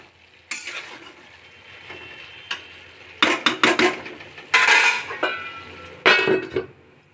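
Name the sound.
stirring potatoes with cabbage in a pan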